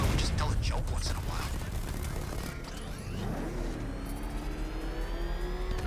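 A car engine in Batman Arkham Knight roars and whirs under dense game action and crashes, with a rising engine pitch near the end and a player talking over it.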